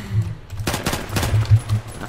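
Automatic gunfire in the online shooter game Phantom Forces: a brisk run of close, punchy shots in uneven bursts over about two seconds, with no talking.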